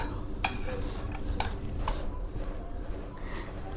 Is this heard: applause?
no